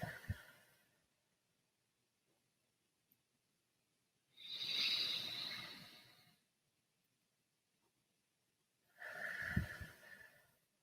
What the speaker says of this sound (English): taking some big breaths in and exhaling.